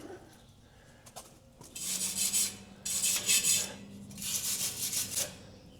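Rough metal scraping on a garden gate, cleaning off rust and weld spots, heard as three rasping bursts of a few strokes each, fairly faint against a quiet outdoor background.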